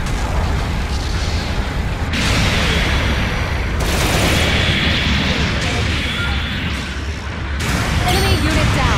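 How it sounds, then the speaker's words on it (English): Several deep booms and bursts go off as an enemy mobile suit is destroyed in the game Gundam Battle Operation 2. They sit over a dense rumble of battle noise, loud and continuous. "An ally has destroyed an enemy mobile suit."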